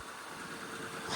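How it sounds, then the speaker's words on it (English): A Ford Ranger pickup truck engine with over 300,000 miles idles with a steady low rumble and faint hiss, rising slightly at the very end, with no talking. "engine's smooth too. I mean, it sounds smooth,"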